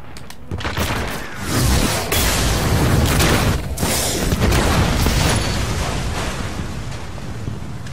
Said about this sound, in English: I didn't even know you could fully destroy those sentry turrets